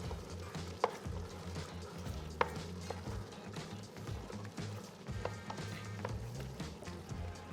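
Meat and flour stirred together in a hot pan at a chef's Latvian cooking event, with a steady sizzle of frying under scraping stirs and a couple of sharp utensil knocks against the pan.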